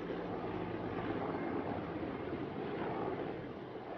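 A steady, broad roar of military helicopters flying over a house, a continuous low rumble with no breaks throughout.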